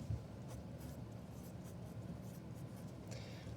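Pencil writing on a paper worksheet, soft scratchy strokes faint and close over a quiet room.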